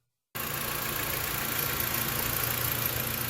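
A Dodge Avenger engine cranks and catches after a moment of silence, then settles into a steady, even idle that runs on alone, close and unbroken.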